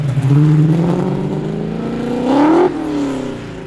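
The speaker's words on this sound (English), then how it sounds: "Best sounding car here today." A tuned muscle car engine at a large car meet revs up from a rough idle, its loud throaty tone climbing steadily to a peak, then dropping sharply and settling back down.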